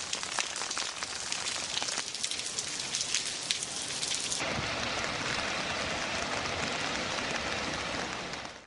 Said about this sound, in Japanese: ライブ前日の幕張は雨。